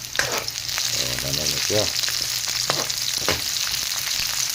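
Garlic and onion sauté in a pan for a Filipino mung bean dish, giving a steady close sizzle with stirring scrapes, while a voice briefly speaks over the frying.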